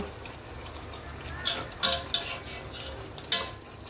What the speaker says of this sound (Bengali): তখন আমি এর মধ্যে ভিন্ডিটা আস্তে আস্তে করে দিয়ে দেব।